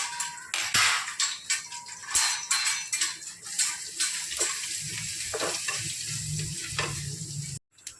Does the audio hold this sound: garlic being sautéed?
yes